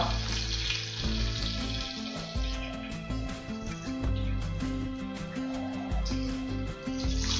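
Nigella seeds and green chilies sizzle loudly in hot oil left over from frying pomfret. The close, steady frying hiss comes with faint stirring sounds and no talk.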